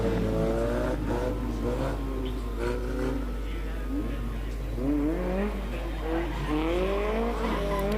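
A stock car does donuts at a regional oval race meeting in South Africa, its engine revving and tyres squealing in long wavering skids, loud and sustained with a crowd and commentary-like voices underneath.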